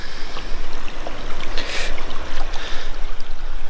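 Water sloshing and washing gravel in a gold pan during prospecting, a steady close rushing and splashing with rhythmic swirls and no talking.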